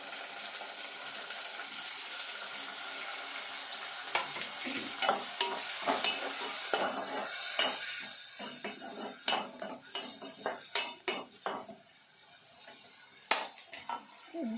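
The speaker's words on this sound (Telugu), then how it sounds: "ఆ టమాటాలు వేస్తున్నా." Tomatoes go into a hot pan of sizzling oil for a black-eyed bean curry, with a steady frying hiss and repeated scrapes and clinks of a spoon stirring against the pan, close and clear with no talking.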